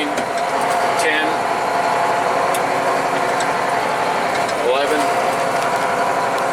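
Case International 7120 Magnum tractor engine revved up to about 1,400 RPM, a steady, loud, continuous drone with a brief whine rising twice, while someone talks and counts over it.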